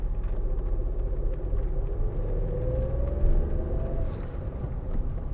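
A car engine pulls away in first gear on a practical driving exam route, a steady low rumble that rises slightly in pitch as it moves off, close and continuous.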